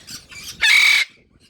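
Loud, harsh eclectus parrot squawks in an aviary, one after another, with a long grating call that ends abruptly, heard close by.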